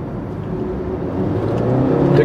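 A 5th-generation Honda CR-V with a continuously variable transmission accelerates smoothly, its engine and road noise rising gradually into a louder steady drone heard from inside the cabin.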